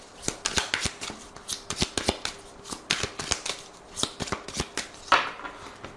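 Oracle cards are shuffled and cut by hand, giving a close run of quick papery riffles and soft slaps in an uneven rhythm, with no talking.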